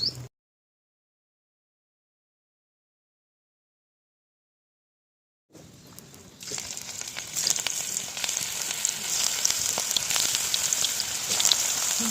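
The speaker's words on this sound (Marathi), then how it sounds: "तर मस्त अशी क्रिस्पी मंचुरियन आपले तळून झाले दादा" Crispy cabbage Manchurian balls deep-frying in oil over a wood-fired clay stove, a steady crackling sizzle that rises after a silent start and holds close and fairly loud to the end, with no voices.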